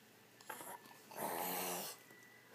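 A dog breathing heavily up close, with quiet snorting and a longer rasping, wheezy breath in the middle, and no talk over it.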